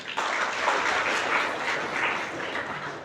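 Applause at a Teachers' and Engineers' Day function, a short spell of clapping that stays fairly even for about three seconds at moderate loudness.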